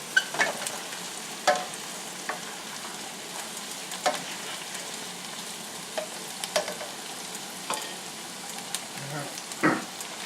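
Food stirred in a frying pan, a soft continuous sizzle punctuated by irregular scraping clicks of a utensil against the pan, fairly quiet and close.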